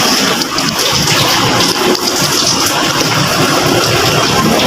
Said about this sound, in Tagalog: So para mas malakas yung daloy ng coolant.